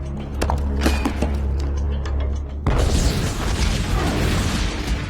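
Rockets detonate beneath a castle in a CGI film scene: a sudden loud, sustained blast with broadband roar bursts in midway after a rumbling, tense lead-in, and continues densely to the end.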